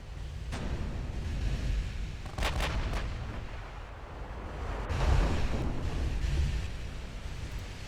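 Naval shellfire in the video game Ultimate Admiral Dreadnoughts: several heavy booming impacts and blasts roll out one after another over a continuous rumble of sea and battle ambience, with no voices.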